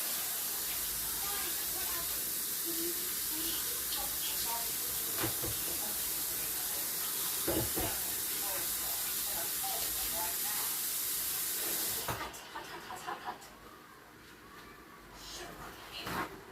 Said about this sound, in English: let me wash my hands off real quick